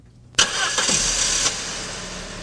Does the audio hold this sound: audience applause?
no